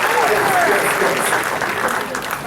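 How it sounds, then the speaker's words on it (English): Audience applause at an in-depth interview event, a dense, loud wash of clapping from a crowd that carries steadily through the moment with little variation. "Y'all give her a round of applause."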